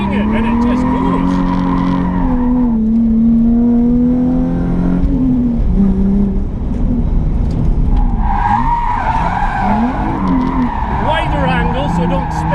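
Nissan 350Z drift car engine revving hard with tires squealing, loud and close, the engine note rising and falling in surges over about twelve seconds while people talk over it.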